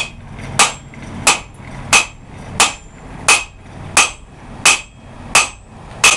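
A hammer strikes a Harbor Freight Doyle anvil in a steady series of ten loud, ringing blows about two-thirds of a second apart, each with a bright metallic ring, close and alone.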